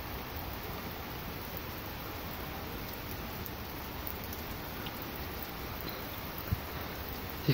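Rain pours steadily during a severe thunderstorm, a dense, even hiss of falling water with no pauses, close and constant, with a faint isolated tap near the end.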